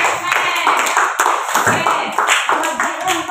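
A classroom group receives a burst of clapping from students, several hands beating irregularly at close range, mixed with overlapping voices and chatter.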